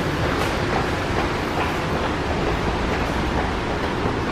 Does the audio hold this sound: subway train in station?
yes